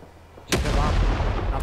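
A grenade blast in the Rising Storm 2 battlefield: a sudden loud boom, followed by a long, heavy rolling rumble and debris noise that fills the rest of the moment.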